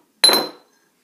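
A teaspoon of jam taps into a yogurt pot with one short, bright clink up close, then silence.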